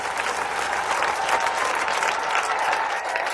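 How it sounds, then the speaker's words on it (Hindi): Loud audience applause fills the space, a dense steady clatter of many hands clapping at once with a faint crowd murmur underneath, sustained without a break. "संजीव सर के लिए जोरदार तालियां दोस्तों।"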